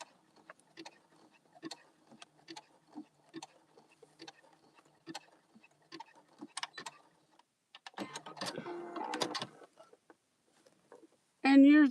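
A sewing machine stitches through layered denim, lace and t-shirt fabric, giving a steady run of light mechanical ticks at a regular pace, with a louder burst of mixed noise near the end.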